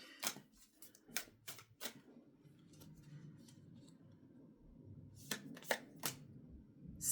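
Slippery tarot cards being shuffled close by, sharp riffling bursts in two clusters separated by a quieter stretch of faint handling noise.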